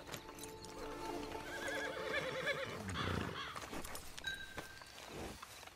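A horse in the video game Red Dead Redemption 2 whinnies in a long rising-and-falling call, with clip-clop hoofsteps on the ground nearby and soft game ambience underneath.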